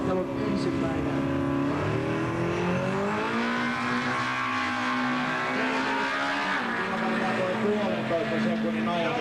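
A yellow BMW street car at a drag race revs and pulls away, its engine pitch rising and falling in long sweeps, loud and near, while a commentator talks over it.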